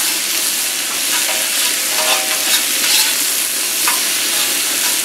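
Mixed vegetables sizzle hard in a hot pan with stir fry oil, a dense continuous crackle close up, with faint scraping and shifting as the pieces move around.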